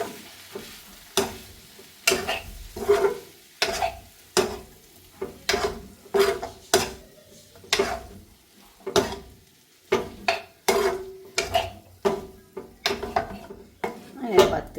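Cooked liver for a liver roast being stirred in a pan, with rhythmic spoon knocks and scrapes against the metal repeating about every half second over a soft sizzle, close and with no talk.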